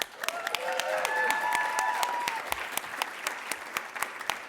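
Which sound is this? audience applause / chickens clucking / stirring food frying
audience applause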